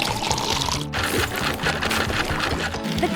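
Water poured into a concrete mixer with sand and cement, a steady rushing, splashing pour that fills the whole stretch with dense, loud texture.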